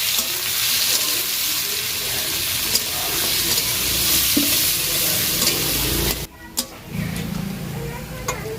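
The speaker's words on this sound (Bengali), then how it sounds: "আমার পেঁয়াজটা ভাজা ভাজা হয়ে গেছে" Onions sizzle and crackle in hot oil in a pan for mutton fat and liver curry, with a spatula scraping and stirring through a steady fry; the sizzling drops briefly near the end, then resumes.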